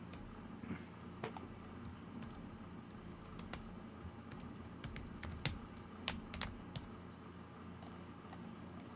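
Password typed on a computer keyboard: quiet, irregular key clicks in short bursts against a low background hum, close and without talk.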